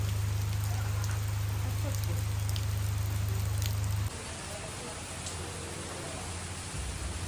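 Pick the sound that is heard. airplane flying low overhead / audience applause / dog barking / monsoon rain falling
monsoon rain falling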